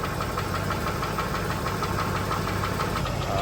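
A car engine runs steadily with a loud, rhythmic knocking throughout, after a coolant flush of the system, the steady pounding thick with throbbing vibration and no voices over it.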